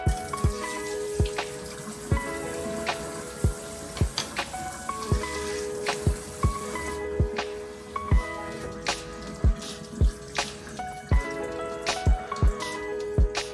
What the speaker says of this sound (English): let's go ahead and rinse this conditioner out.